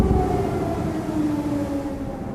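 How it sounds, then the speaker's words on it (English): Air raid warning sirens wail over Kyiv during overnight drone attacks, a steady, sustained tone with slowly drifting pitch carrying across the city, loud and continuous with no talk. "Warning sirens in Ukraine's air defense system are heard over Kyiv."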